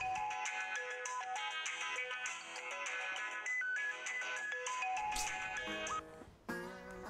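A mobile phone ringing with an incoming call in an indoor drama scene: a bright, melodic electronic ringtone loops steadily for several seconds, clear and alone, with no voices.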